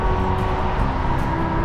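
Steady, dense roar of passing road traffic fills the air, broadband and continuous with no gaps, loud and close during an outdoor ride.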